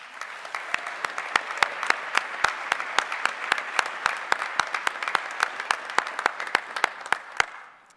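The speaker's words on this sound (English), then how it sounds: "Please stand for your applause." A crowd claps in steady applause at a nursing graduation ceremony, with dense, even clapping in a large hall that holds throughout and has some sharp individual claps standing out.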